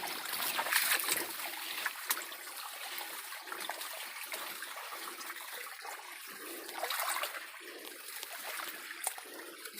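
A forest stream runs over rocks worn down by the water, giving a continuous close rushing and trickling wash with small splashy surges and no talking.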